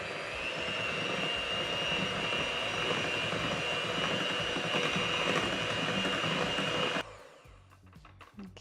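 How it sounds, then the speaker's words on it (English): An electric mixer whisking Nutella into ice cream in a bowl, a loud steady high whine for about seven seconds, then cutting off to quieter clinks and handling. "And then grab your electric mixer."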